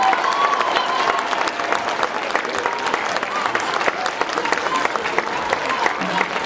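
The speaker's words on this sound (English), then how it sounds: "let's have a round of applause for them." Loud, sustained applause from a large audience at a school production of Guys and Dolls, dense clapping continuing steadily for several seconds with faint crowd murmur.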